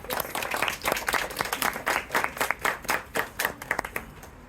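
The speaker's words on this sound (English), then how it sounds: "Please give a round of applause for her joining us." A Remembrance Day audience claps for a singer in World War II uniform, a fairly small crowd with distinct, uneven hand claps that rise and fall before thinning out.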